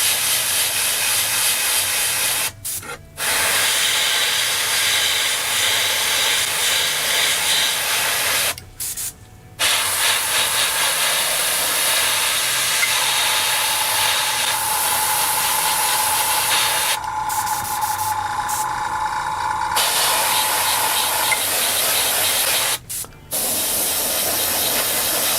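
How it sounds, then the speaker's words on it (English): Airbrush spray painting angle highlights on a Star Wars Legion AT-ST miniature, a loud continuous close hiss broken by three brief pauses as the trigger is released, with no talking. "Doing some angle highlights where I basically just spray it without trying to get in every nook and cranny"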